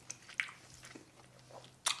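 Someone chews a piece of aged deer steak up close, with a few soft bites and wet, crunchy chewing sounds in a quiet room.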